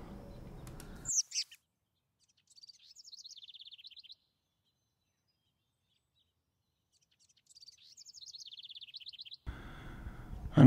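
A black-capped chickadee calls twice, each a quick run of high chirping notes, fairly faint and separated by silence, with brief low rustling at the start and end.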